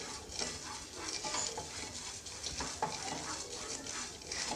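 Fenugreek seeds and chana dal fry in a pan with a steady close sizzle and crackle, overlaid by scraping stir strokes and light clinks of a spoon against the pan.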